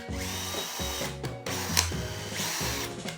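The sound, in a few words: drilling pilot holes in wood for strap hinges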